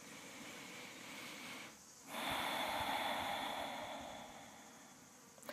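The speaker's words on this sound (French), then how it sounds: "Et prenez des grandes respirations ici." Slow, deep breaths during a gentle yoga stretch, a long airy inhale followed by a sustained exhale, close and soft against a quiet room with no talk.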